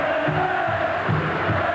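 Stadium crowd at a 1997 Warrington v Auckland rugby league match, a dense continuous roar of cheering and shouting that stays loud throughout.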